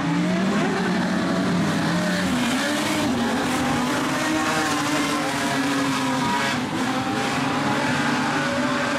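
Modified sedan race cars rolling around a speedway toward the start, a dense continuous engine drone with shifting revs from several cars close by, loud and steady without talk.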